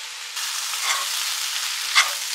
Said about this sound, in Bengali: মশলাগুলো অ্যাড করে ভালো করে কষিয়ে নিয়েছি।